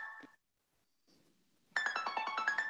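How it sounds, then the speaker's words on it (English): A mobile phone beeps during an online event, a short tone, then a rapid run of bright, repeated electronic pulses after a near-silent gap. "My phone is beeping."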